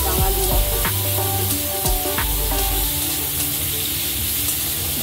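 Bitter gourd frying in hot oil for Bengali shukto, a steady loud sizzle with occasional stirring knocks against the pan, no voices.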